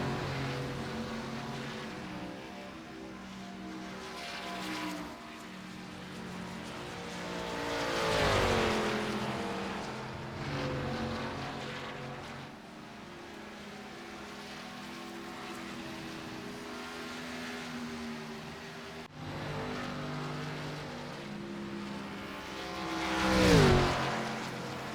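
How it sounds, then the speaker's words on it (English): Race cars at Charlotte drone around under caution behind the pace car, engines humming steadily with several cars swelling louder as they pass close by, one sharp pass near the end. "All the cars will catch the pace car here, and I assume everyone will be making a stop."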